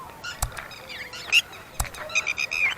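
Red-wattled lapwings call in shrill, urgent bursts, several sharp repeated notes from a few birds nearby, with a couple of loud clicks between.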